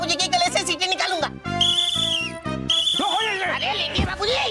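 A shrill whistle sounds in two sustained blasts amid lively background music and other noise, with people talking around it.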